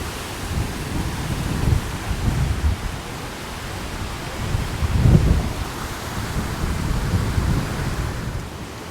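Strong wind gusting in Durrës, Albania, a broad steady roar with a heavier gust swelling near the middle, loud and continuous with no voices.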